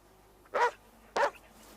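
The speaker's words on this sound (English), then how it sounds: "That dang dog." A dog gives two short, sharp barks about half a second apart, moderately loud and slightly distant against a quiet background, with no one speaking.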